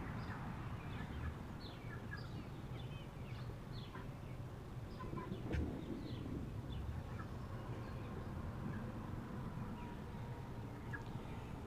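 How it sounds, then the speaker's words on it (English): A large flock of about thirty chickens clucks and squawks steadily while chasing one another over scraps of raw bacon on a damp, cool day, with scattered sharper calls over a constant busy barnyard murmur. "It's like 30 chickens chasing one chicken around."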